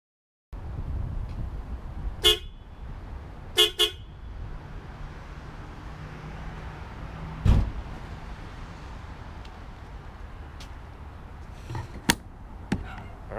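An aftermarket Hella horn wired into a Nissan 300ZX gives several short, sharp honks. They stand out clearly over a steady background hum, with a couple of brief blasts near the start and more toward the end.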